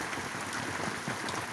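Rain falls on a foggy day, a continuous close hiss of drops hitting surfaces with faint low rumbling beneath.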